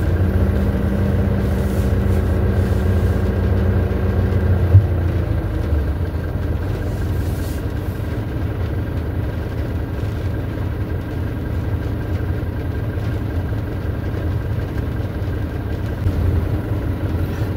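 A two-stroke motorcycle engine runs at a steady low idle, a constant rumbling drone that continues evenly throughout with no talking.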